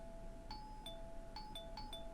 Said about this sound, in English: Whoever was ringing my doorbell was really, really persistent.